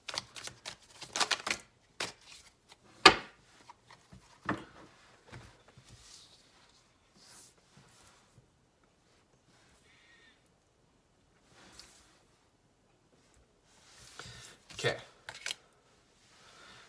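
Tarot cards being shuffled and drawn for a reading: quiet riffles and soft snaps in short clusters, mostly near the start and again toward the end, with long near-silent gaps between.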